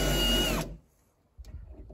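A short burst of a power drill whirring loudly up close during bodywork on a Peugeot 205 Dturbo rear wing, stopping abruptly, followed by a faint clunk.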